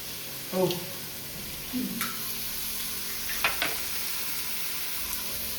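Leftover brinjal masala curry reheats in a pan, a soft continuous sizzle with a few brief clinks and scrapes of a spoon, fairly quiet and steady.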